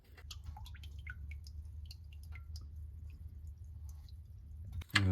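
Engine oil drains from the oil pan of a 2015 GMC Yukon Denali XL with the 6.2L engine, giving soft, scattered drips over a steady low rumble, with a louder splash near the end.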